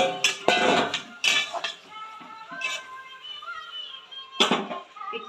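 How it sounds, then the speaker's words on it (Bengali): A lid is set on a cooking pot of moong dal and bottle gourd stems, with several loud metallic clanks and rattles close by, a ringing tone hanging between the hits, then one final clatter. "ঢাকনা দিয়ে রাখবো"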